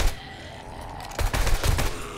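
AK-47 automatic gunfire in the zombie survival game 7 Days to Die, erupting in a loud burst of rapid shots after a quieter stretch of background noise.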